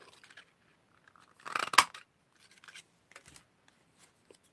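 Scissors snip through paper scraps during card making, a short burst of crisp cutting around the middle, with faint rustling and small handling sounds before and after in a quiet room.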